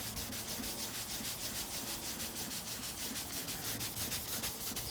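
Mothers polish is rubbed by hand onto a foggy, damaged headlight of a 2005 Volvo XC90, making a steady, close, rhythmic scrubbing that goes on throughout without talk.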